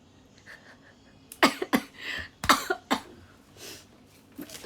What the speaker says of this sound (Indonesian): Batuk deh gue.